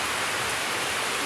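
Sudden heavy rain pours down in the Philippines, a dense, steady hiss of downpour with no break, loud and close.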